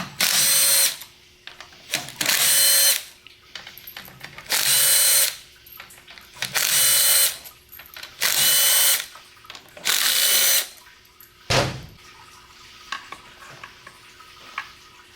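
Power tool running off six 8mm valve body bolts from a 2008 Dodge Cummins RFE transmission case, a series of loud, steady whirring bursts of about a second each with short pauses between, close up and alone.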